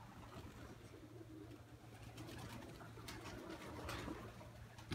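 A drummer pigeon coos in a dovecote, low rolling drum-like coos repeating close by over steady background rumble.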